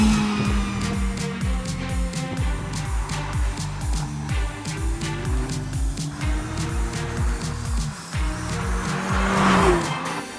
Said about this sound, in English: So I'm in the 2021 Kia Forte 5. Manual transmission, and let's launch this puppy.